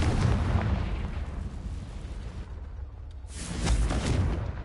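Booming Confringo spell blasts in Hogwarts Legacy, two heavy explosive bursts with a rumbling low end, the second hitting hard after a brief lull, loud and close.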